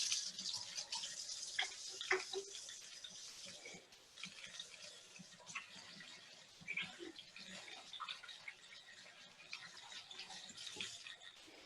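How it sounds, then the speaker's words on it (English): Hands washed under a running kitchen tap, faint splashing and trickling water with small clinks and rubbing sounds, close by and fairly quiet throughout. "I'm just gonna go wash my hands so I can touch my computer again."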